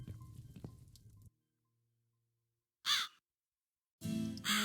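Two bursts of crow cawing from the video game The Cat Lady, separated by a long near-silent gap, following quiet ambient rumble and dripping; each caw is loud, harsh and close.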